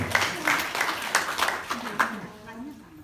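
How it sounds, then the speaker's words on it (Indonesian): Light, scattered clapping from a small audience at a government outreach meeting, a few distinct claps under a speaking voice, then fading out. "Tepuk tangan buat beliau-beliau"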